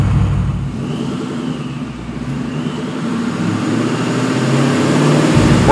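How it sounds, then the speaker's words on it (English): A vehicle engine drones and gradually builds in revs on a Dynojet chassis dyno, a loud, close, continuous rumble that swells slightly toward the end. "We're now going to go ahead and make a couple of dyno runs"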